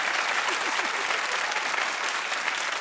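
A television talk-show studio audience bursts into loud, sustained applause, a dense wash of many hands clapping together that runs steadily throughout.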